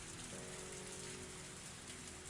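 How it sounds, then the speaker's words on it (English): Rain in Higurashi: When They Cry, a dense, even downpour hissing steadily throughout with no breaks, fairly faint. "I started running through the rain."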